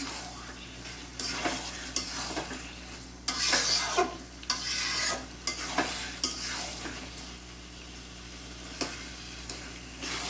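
Tomatoes fry in a pan for an aloo ghati potato curry with egg, with a steady soft sizzle and a utensil stirring and scraping in repeated, irregular strokes close by.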